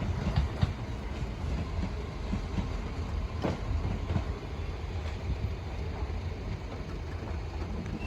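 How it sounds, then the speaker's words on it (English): A train bound for Doncaster rumbles steadily past the Sleaford West level crossing, with a continuous low roar, faint wind and occasional clicks of wheels over rail joints. "5 for 2! For Doncaster."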